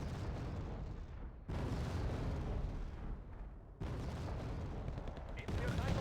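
Milan anti-tank missiles fired by an infantry squad at a Leopard tank in the Wargame: Red Dragon strategy game, a dense run of rumbling gunfire and explosion bursts with sharp cuts between loud barrages.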